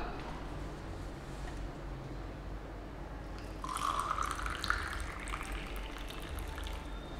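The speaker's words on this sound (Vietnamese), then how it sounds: "Rót 120ml nước sôi vào bình lắc." Boiling water poured into a cocktail shaker holding a Lipton tea bag, a continuous soft trickle that swells midway into a louder splashing gurgle, close and steady against a low background rumble.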